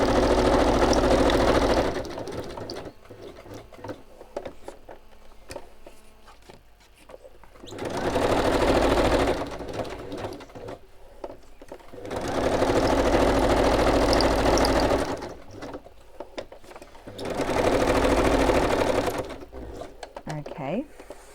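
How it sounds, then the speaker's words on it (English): A sewing machine stitches around a piece of fabric in three long, loud, steady bursts with short pauses between them, while faint handling noise fills the gaps. "I'll just quickly stitch around that"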